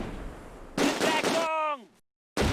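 Gunfire from Close Combat: A Bridge Too Far, a battle at a bridge: two dense, loud bursts of shots, then a shouted voice and a short silence before another burst starts.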